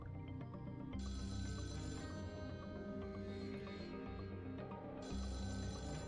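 A phone rings inside the video game Schedule 1, a loud electronic ringtone that repeats in bursts over game sound, with no talk.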